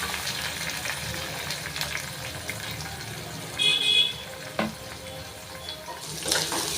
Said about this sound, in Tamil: வெங்காயம் பச்சை மிளகா கருவேப்பிலை இந்த மூணையும் ஆட் பண்ணிடலாம்